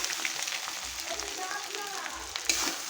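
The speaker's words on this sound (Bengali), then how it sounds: "দিয়ে ভালো করে নেড়ে চেড়ে নেব" Egg chow mein noodles frying and being tossed in a pan, a close steady sizzle with soft scraping stirs and a sharp clink near the end.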